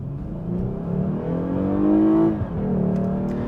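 A 4th-generation Lexus GS sedan's engine revs up steadily from inside the cabin, the pitch climbing for about two seconds before a brief dip and a gear change, then pulling again, loud and close with no talk.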